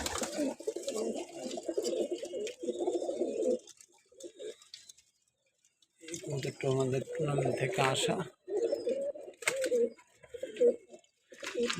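Black-necked pigeons coo in low, throaty bursts, close by, alternating with someone speaking and brief quiet gaps.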